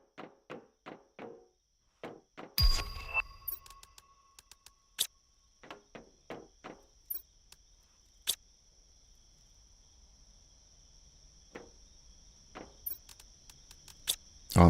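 Chirping from crickets in the game The Planet Crafter, sharp short pulses in an irregular pattern with a sustained steady tone beneath, fairly close, with a few clicks and no talk.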